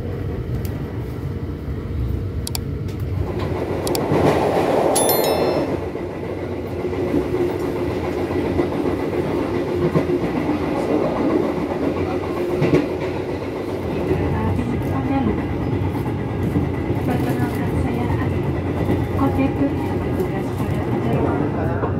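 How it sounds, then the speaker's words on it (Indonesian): The KA Pandalungan executive train pulls out of Jember station, a steady rumble of rail cars and engine with faint clickety-clack, heard from on board, continuous and moderately loud throughout. "kereta api Pandalungan sudah diberangkatkan dari stasiun Jember"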